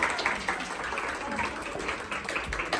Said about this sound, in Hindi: एक दफ़ा उनके लिए तालियाँ बजाएँ